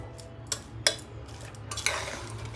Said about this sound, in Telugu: మనం జాగ్రత్తగా గరిటతో ఇట్లా మిక్స్ చేసుకోవాలి